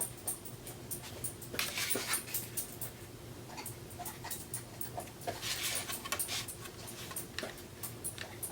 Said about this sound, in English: My puppy came in, she's chewing on some paper.